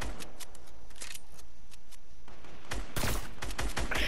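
Rapid bursts of gunfire in a video game: sharp, repeated shots crack in quick succession, followed by a denser, louder volley at the end.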